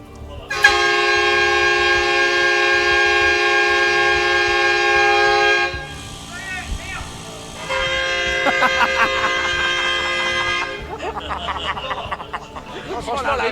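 High-speed TGV train sound effect played during a live stream: a long, loud sustained horn blast with strong harmonic tones, then a second horn burst after a short gap, ending in rumbling rail noise with voices faintly underneath.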